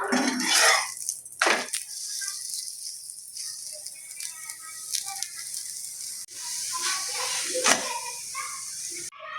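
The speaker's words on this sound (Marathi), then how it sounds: "तूप टाकून भाजून घेऊया।" A thin methi paratha roasts with ghee on a pan, giving a soft hiss and sizzle with clattering and scraping of a spatula, close, with bursts of louder sizzling at the start and near the end.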